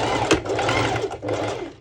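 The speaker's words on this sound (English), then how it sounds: "usually my sewing machine is quite good, but I feel like it's struggling a little bit over this thicker bit" A sewing machine stitches through a thick fabric section at close range, its motor whirring with a labored, slightly uneven drive and a brief clunk near the start, no voices.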